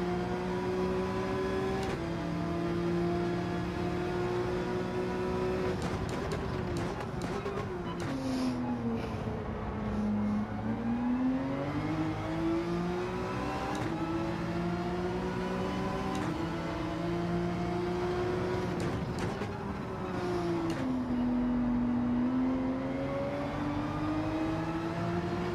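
A race car in Gran Turismo 7 accelerating hard, its engine whining steadily upward through the gears with brief dips at shifts, loud and continuous throughout.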